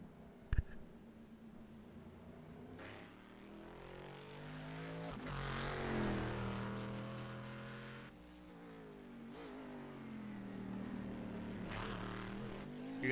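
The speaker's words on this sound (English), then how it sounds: "You're listening to DJ Weeks Jr. Corvette, one of the best sounding cars on the race circuit." A DJ Weeks Jr. Corvette race car in open qualifying at Montreal, its engine rising and falling through several revving passes, swelling louder as it nears and fading as it moves off, with a sharp click near the start.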